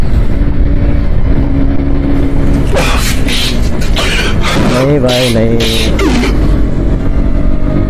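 A KTM RC 125cc motorcycle accelerates hard in fifth gear, its loud engine drone climbing steadily through the clip with heavy wind rumble, while a rider shouts over it near the end.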